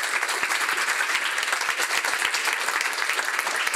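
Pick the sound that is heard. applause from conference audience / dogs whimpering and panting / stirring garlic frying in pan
applause from conference audience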